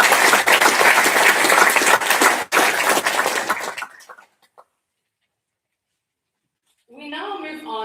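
Dense audience applause fills a school prize giving, steady and loud for several seconds before fading into silence; after a pause, a voice begins speaking.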